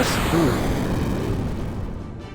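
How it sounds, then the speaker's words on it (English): A flashbang-style magic spell effect from the game Xenogears opens as a loud, broad roaring blast, then thins out and fades slowly over about two seconds. "Ooh, flashbang."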